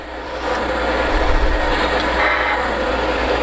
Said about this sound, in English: That should be the Polar Express freight train.